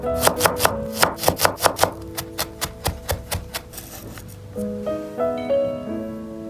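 Rapid, sharp knife strikes on a cutting board mincing smashed garlic cloves in a quick rhythmic run of chopping, slowing to a few taps before some tonal clatter at the end.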